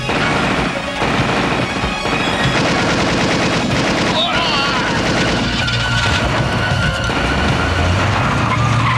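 Gunfire from the video game Demonstone, with rapid bursts of shots and engine-like noise forming a loud, dense, continuous game soundtrack with no talk.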